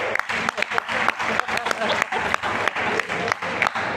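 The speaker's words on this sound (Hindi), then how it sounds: "एक बार इनके लिए फिर से तालियां हो जाए" Audience applause at a token meeting in Bharatpur, Rajasthan: a dense burst of clapping from a seated crowd, steady and fairly close, with brief pauses in the rhythm and a voice speaking over it.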